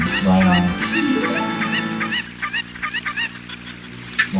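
Cuccos (chickens) in Zelda Ocarina of Time give a string of short, repeated honking clucks over game music, loud and near, with brief talk at the start.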